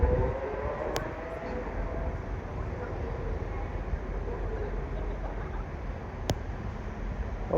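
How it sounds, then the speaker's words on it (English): A CrossCountry train pulls out of Doncaster station on the East Coast Main Line, bound for Birmingham New Street from Newcastle, giving a steady, continuous rumble and rolling noise at moderate distance with a couple of brief sharp squeals, no talk. "Now departing is the delayed 11:59 cross country service to Birmingham New Street from Newcastle"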